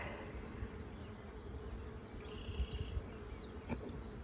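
Honeybees buzzing around an opening hive in early spring, a steady soft drone of many wings with individual bees zipping close past now and then, no voices.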